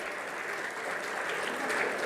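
A room full of people gives a team a steady round of applause at a panel event, dense even clapping sustained at moderate loudness throughout with no pauses.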